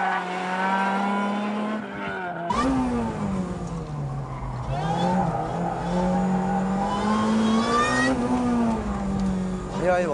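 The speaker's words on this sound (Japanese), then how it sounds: "世界最高の4気筒エンジンにスーパーチャージャーをドッキングしたエリーゼはどんな走りを見せるのか" A supercharged four-cylinder Lotus Elise's engine revs hard and roars as it accelerates and shifts on a mountain pass, with tires squealing through corners, loud and close.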